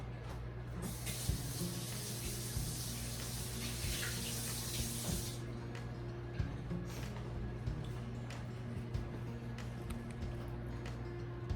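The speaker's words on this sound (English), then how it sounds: "Let me wash my hands and I'll be right back." Tap water runs steadily into a kitchen sink while hands are washed, a loud rushing spray for several seconds that then drops back to a quieter trickle over a low background hum.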